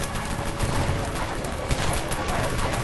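Dense crackle of submachine gun fire from many players in the online zombie game Dead Frontier during an invasion event, continuous overlapping bursts at moderate distance with a busy game soundscape underneath.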